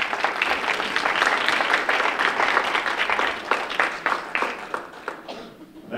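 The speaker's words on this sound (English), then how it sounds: "give him a round of applause as well for doing this" A breakfast gathering at a VFW club applauds as a speaker is brought up, sustained full-room clapping that thins and fades toward the end.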